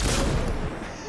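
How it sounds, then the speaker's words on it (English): A single heavy headshot gunshot in Cyberpunk 2077 booms at close range and decays quickly within about a second. "I'll do a headshot."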